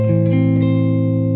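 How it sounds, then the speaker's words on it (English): Guitar chords ring out loud and sustained, with a few notes changing early on before the chord settles and holds through a distorted, effects-laden tone. "if I play that melody somewhere else on the guitar"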